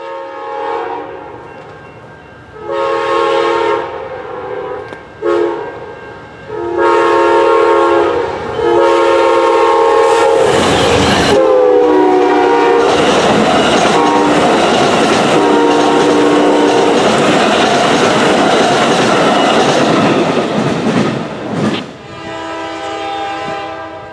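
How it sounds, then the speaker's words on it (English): An eastbound Amtrak passenger train led by P42DC locomotive number 20 speeds through Suffolk, sounding several loud horn blasts before a roaring, rumbling pass with wheel clatter that stays loud to the end. "Amtrak 95 coming east with Amtrak P42 DC number 20 in command as it rockets through Suffolk"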